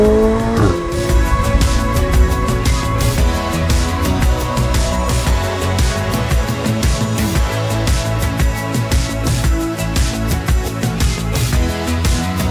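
A McLaren Elva open-top supercar drives hard, its engine roaring and revving steadily up close with shifting pitch and possible tire squeal, loud and unbroken with no talk.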